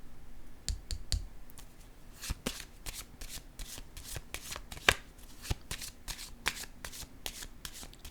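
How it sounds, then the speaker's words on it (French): Tarot cards are shuffled and laid down with crisp riffling and sharp, irregular slaps and clicks. The handling sounds are close and moderately loud, and no one speaks. "Je vais déposer une autre carte ici."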